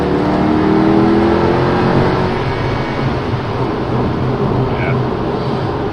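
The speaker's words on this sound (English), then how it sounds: "So we can try to push the throttle a little bit" A Mercedes CLK63 AMG with an automatic transmission accelerates under throttle, its engine note rising loud and close in a sustained drone that eases slightly toward the end.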